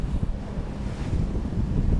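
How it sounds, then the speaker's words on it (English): Wind gusts and ocean waves at sea aboard a 65-foot Hatteras boat, a loud continuous rushing roar with buffeting microphone noise and low surging swells and no voices. "It is pretty windy over here. These waves are supposed to calm down a little bit."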